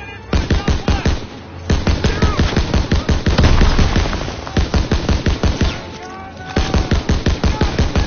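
Dense battle gunfire from Call of Duty WW2, rapid machine-gun bursts and rifle shots cracking in steady volleys close by, with brief lulls between heavy, continuous barrages.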